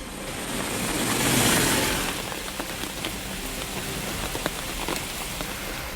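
Heavy monsoon rain pours steadily across a hilly rubber-growing district of Kanniyakumari, a dense continuous hiss that swells in the first two seconds and then stays even, with scattered heavier drips landing close by.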